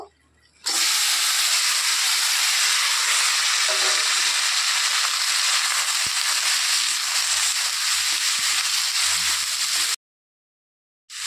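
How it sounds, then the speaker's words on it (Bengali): Potato and taro pieces frying in oil left from frying tilapia fish, a loud, dense crackling sizzle that holds steady for about nine seconds with faint clinks, then cuts to silence. "আলু আর কচুটা একটু ভেজে নেব"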